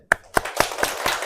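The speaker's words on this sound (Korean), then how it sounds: "박수." Churchgoers in a Catholic parish clapping briefly, with about five sharp, evenly spaced claps close by.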